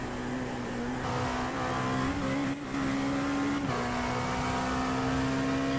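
Race car engine in the iRacing sim during the Daytona 24 Hours, heard from the cockpit as a steady, loud drone that holds a constant pitch, with a brief dip near the middle and no talking.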